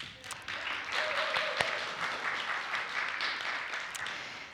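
An audience in a church claps steadily for several seconds, a dense even patter of applause at moderate distance with a few sharper individual claps.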